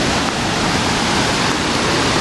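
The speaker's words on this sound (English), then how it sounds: "Porque miren, está un creek acá." Rushing creek swollen with snowmelt water, a loud, constant close roar of flowing water with no pauses.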